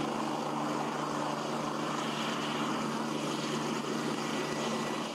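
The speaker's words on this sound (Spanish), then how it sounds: "El helicóptero acaba de aterrizar aquí en este campo deportivo." A helicopter landing on a sports field gives a steady, loud, continuous engine and rotor roar throughout, with no voices over it.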